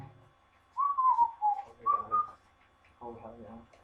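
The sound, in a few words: person whistling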